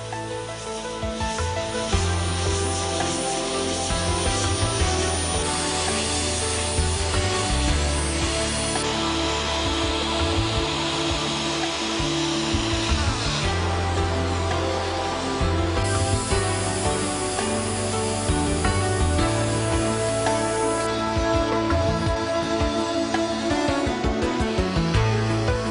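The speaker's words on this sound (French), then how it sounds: "Voici d'autres exemples d'opérations de soudure pendulaire." A gas torch hisses steadily during pendulum-style welding, a continuous rushing roar with faint shifting tones underneath, loud and close throughout.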